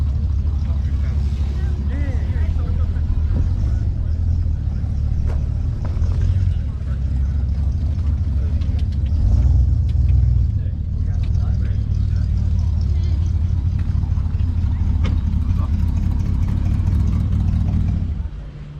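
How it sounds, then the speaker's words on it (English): Old Ford car engine running at a Ford rally at the British Motor Museum, a steady low rumble heard from a distance under continuous outdoor crowd noise and talk. "Well, I hope you can hear that engine in the distance."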